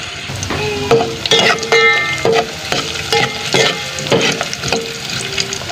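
Ginger hits hot cooking oil in a pot and crackles into a lively sizzle, with repeated scraping stirs of a spoon against the pot rising over the frying noise, all loud and up close.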